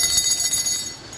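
A small brass bell rings with a bright, shimmering tone. It sounds loud and close, with a rapid wavering pulse, then fades away within about a second.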